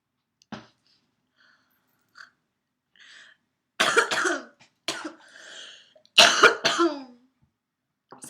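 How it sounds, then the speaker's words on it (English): A person coughing and clearing their throat close to the mic in several separate harsh bursts spaced by quiet pauses, with a few faint small sounds between. "Oh my gosh, I'm gonna cough so much, I think."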